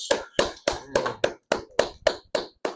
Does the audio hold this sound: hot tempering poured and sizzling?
no